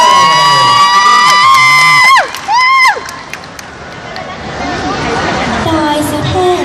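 A loud audience, many of them children, at a Doraemon song performance in Chiang Mai cheers and shouts, the noise spreading into a broad roar of excited voices.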